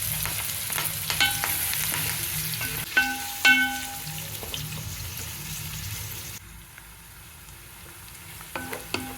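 Onions, green chillies and curry leaves fry in hot oil with a steady close sizzle, broken by the clinks and scrapes of a utensil stirring the pan.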